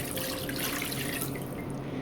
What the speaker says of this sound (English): you just want to pour that into your crock pot